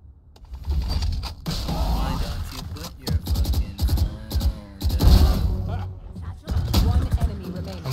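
Rapid bursts of gunfire from Valorant play in clusters, mixed with mechanical clicks and reload sounds, loud and close, interrupted by short pauses.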